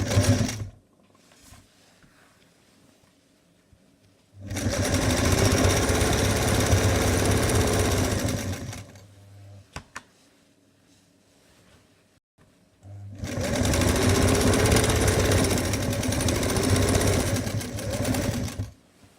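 A sewing machine stitches the basic side and bottom seams of the inner chemise layer of a two-layer long party dress, running in two long steady bursts with a quiet pause between them.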